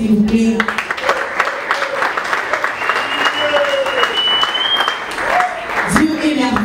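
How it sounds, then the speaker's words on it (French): Applause from a crowd at a Congolese gospel music conference honouring a singer, steady clapping throughout, with a presenter's voice and musical or vocal tones riding over it. "on peut l'applaudir s'il vous plaît"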